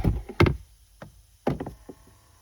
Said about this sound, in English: push on the glove box to get that tab to fold behind, and you're in